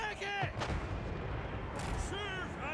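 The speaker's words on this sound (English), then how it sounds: "Cannons are already starting to blast." Cannons fire during a Total War: Warhammer 3 battle, with booming blasts rolling over a dense wash of battlefield noise while someone talks over the game.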